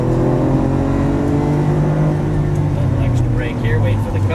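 A Lamborghini Aventador LP700-4 on a racing course at full throttle, its engine holding a loud, sustained high-revving drone that shifts pitch slightly, with an instructor's voice talking over it.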